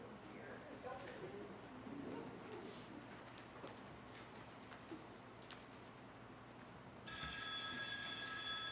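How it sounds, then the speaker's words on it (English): A telephone in a radio play starts ringing near the end, a bright, steady electric ring cutting in loudly over a dim, rumbling background. "Excuse me, I have to answer the phone."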